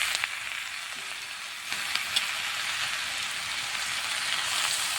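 Goat fat sizzles in a pan along with fried lentil dumplings in oil, turmeric and salt. The frying hiss is continuous and fairly even, with a few sharper crackles, and no one speaks.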